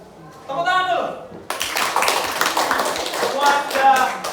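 A group in a classroom bursts into clapping after a short voice, the applause dense and steady at close range for nearly three seconds.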